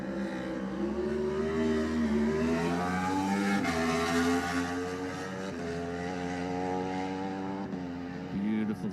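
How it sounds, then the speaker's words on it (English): A Norton racing motorcycle engine wails loudly as it passes during the Isle of Man Senior TT, its pitch rising and falling with gear changes, sustained and fairly close. "Josh Brooks on the Norton"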